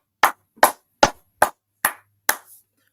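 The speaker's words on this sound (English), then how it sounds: "Clap it up." Six sharp hand claps, spaced roughly evenly about every 0.4 seconds, each crisp and close with a quick decay, heard alone in a quiet room.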